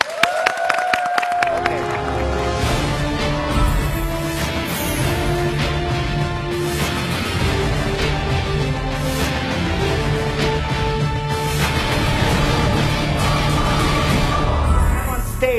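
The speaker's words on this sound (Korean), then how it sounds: "큰 박수로 맞이해주세요." Audience at a magic show in Japan giving a big round of applause, a loud, full crowd clapping with some cheering that swells in after a brief opening note and carries on over stage music.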